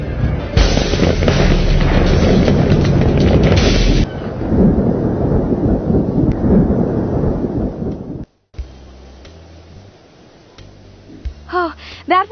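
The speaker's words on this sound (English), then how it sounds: "A thunder may strike any time." Heavy rumbling thunder rolls loudly through a thunderstorm, a long sustained boom that fades after several seconds before a quieter stretch with brief voices and whistle-like sounds near the end.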